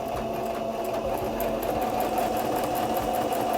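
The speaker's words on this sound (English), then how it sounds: "Press your foot down, needles engaged, and we're just gonna sew a straight stitch" A sewing machine runs steadily, stitching a straight seam with a continuous, even motor whir and rapid needle rhythm, close and loud throughout with no talking.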